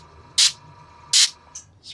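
An airbrush sprays paint onto a miniature figure in short hissing bursts, two longer blasts and two brief quick ones, close and crisp against a quiet background.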